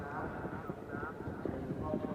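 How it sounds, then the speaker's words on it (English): Hoofbeats of a horse jumping a fence at a 1983 show jumping event, soft rhythmic thuds running through the whole stretch under ongoing commentary. "He's jumping very, very strongly, this horse."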